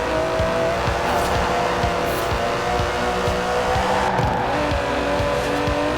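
An Aston Martin DB11 with a 5.2-litre twin-turbo V12 drives in Forza Horizon 4, engine droning loud and steady with a rhythmic pulsing and a faint tire squeal underneath.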